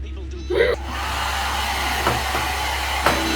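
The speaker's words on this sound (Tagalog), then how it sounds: "I am done blow drying my hair." A handheld hair dryer blows steadily on hair at close range, a continuous broadband whoosh under a low hum, with a brief click and shift near the start.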